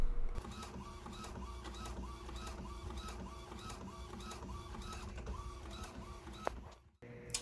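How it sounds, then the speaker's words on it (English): A sublimation printer runs off designs for custom license plates with a steady mechanical whir and repeating carriage passes. The sound is close and continuous, then cuts out briefly near the end. "let's wait for them to come out of the printer so we can get them ready to press."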